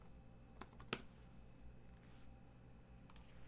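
Keys clack on a computer keyboard in a few sparse, quick taps, faint and close, over a low steady room hum with no voices.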